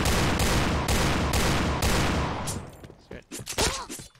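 Rapid gunfire from the online shooter game Piercing Blow: a loud, evenly spaced burst of shots for about two seconds, then a few scattered sharper shots and clatter as the firing trails off.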